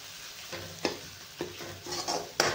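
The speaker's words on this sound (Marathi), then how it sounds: "टोमॅटोला पण मसाला चांगलं असं बारीक मस्त असं परतून घ्यायचंय आपल्याला" Tomato sautéing in spice masala and oil for a salty brinjal curry, a soft sizzle broken by repeated scraping stirs of a spoon against the pan, no talk.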